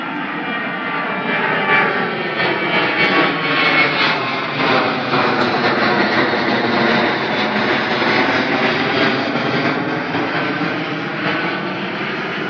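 An airplane takes off close to an airport, a loud, steady jet-engine roar that fills the whole stretch without letup and with no voices over it.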